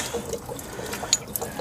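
Water drains from an RV's drain plug during winterizing, a soft close trickle with a few light drips and splashes over a short stretch.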